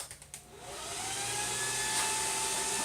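A blacksmith forge's air blower switches on after a few light knocks and spins up into a steady, loud rushing whoosh.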